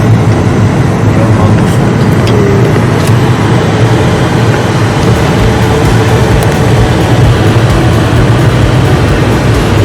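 Steady road and engine rumble from a car driving along a road in Orlando, Florida, a continuous loud wash of traffic noise with no voices throughout.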